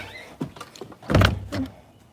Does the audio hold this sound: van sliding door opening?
yes